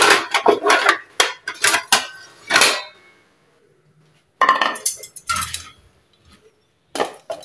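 A paratha is lifted from the pan onto a plate, with a rapid run of loud close clinks and scrapes of metal utensils and dishes, a pause, then more clattering.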